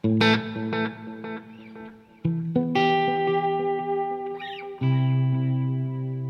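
Electric guitar played through a Halo delay pedal with aux reverb, strummed chords and single notes ringing out with repeating echoes trailing each attack, loud and close with no talking.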